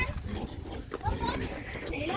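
Grown Large White pigs oinking and grunting in a rural pen, close and steady through the whole stretch, mixed with children's voices and chatter in the background.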